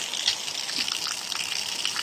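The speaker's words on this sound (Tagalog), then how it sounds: "Sobrang lakas ng ulan, oh." Heavy rain pours down in a dense, steady hiss with splashing water, close and continuous.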